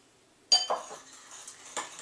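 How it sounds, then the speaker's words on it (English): A spoon clinks and scrapes in a bowl of raw vegan chocolate ganache, a few sharp close knocks followed by softer stirring, with no voices. "You're going to start stirring."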